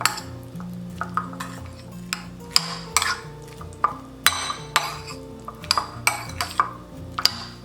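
Mexican street corn being stirred with salt and cotija cheese in a bowl, giving a steady run of utensil scrapes and clinks against the dish over faint background music, with no voice.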